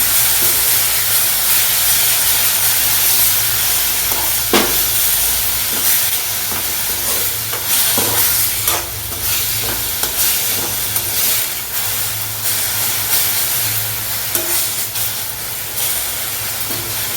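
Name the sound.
sautéing fenugreek leaves (methi) in hot oil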